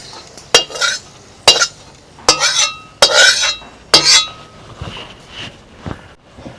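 Tadka being stirred into potato bhaji, five or six sharp clinks of a spoon against the pan at roughly one-second intervals, each followed by a brief scrape and soft sizzle, loud and close.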